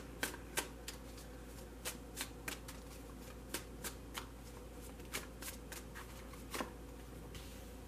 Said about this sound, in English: laying out the cards.